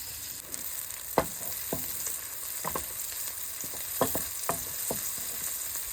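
Chopped onion sizzles in a pan, a soft steady hiss broken by several sharp scrapes and taps of a utensil against the pan.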